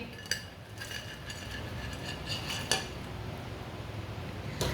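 Fried leftover rice pakoras are moved onto a plate with light clinks and taps of utensils against dishware, quiet and intermittent over soft kitchen background noise.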